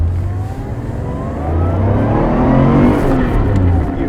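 A 1984 Porsche 911 Carrera engine revs and accelerates up close from inside the car, its note climbing steadily and growing louder through the second half, with no talk over it.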